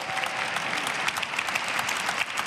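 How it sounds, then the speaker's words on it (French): A gathering at a Christian event applauds three speakers with steady, dense clapping that holds at an even level throughout. "Je voudrais qu'on les applaudisse très très fort."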